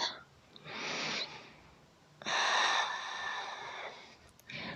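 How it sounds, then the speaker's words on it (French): Deep yoga breathing, with slow, airy inhales and exhales in long alternating waves, close and quiet with no talking. "On inspire, on gonfle le ventre, on expire, on rentre le nombril."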